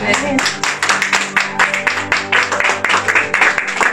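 A church congregation claps in a steady, quick rhythm, loud and close, with sustained musical tones running beneath the beat throughout.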